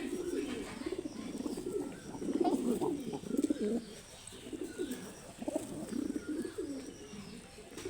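Pet pigeons coo continuously and close by in soft, rolling bursts, with some faint background chirps and occasional voices nearby.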